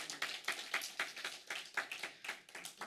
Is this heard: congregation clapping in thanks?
yes